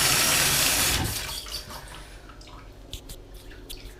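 Water from a spring-fed private supply pumped through rigid black alkathene pipe and a ball cock into a tank: a loud rush for about a second, then fading to a quiet trickle with scattered drips.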